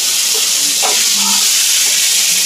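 Cinnamon, cloves, bay leaf and cardamom sizzle in hot oil for mutton kola urundai, making a loud, constant frying hiss close by, with faint, brief murmurs in the background.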